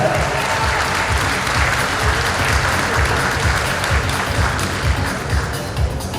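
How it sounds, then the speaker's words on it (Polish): Steady, full applause from a large audience at a bodybuilding and fitness championship in Piotrków Trybunalski, 2015, rewarding female Ms. Figure competitors, sustained and dense for several seconds with no voice over it. "bardzo bym prosił nagrodzić zawodniczki oklaskami"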